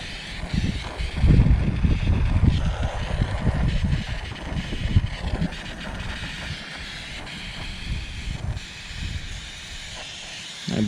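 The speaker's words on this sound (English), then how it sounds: "it's so windy out today" Outdoor wind buffets a microphone with steady rumbling gusts and a hissy roar, rising and falling in strength throughout.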